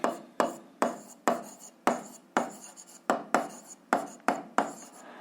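A pen or chalk writes a solution check for a 7th-grade algebra exercise, producing a dozen crisp, evenly spaced strokes and taps close by with short pauses between them and no talking.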